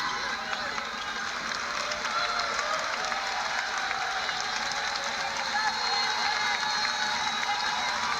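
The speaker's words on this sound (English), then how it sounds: "Crowd on their feet here at Maples Pavilion." A women's college basketball crowd at Stanford's Maples Pavilion applauds and cheers continuously and loudly at the end of a home game against Syracuse, a dense sustained roar of clapping and voices.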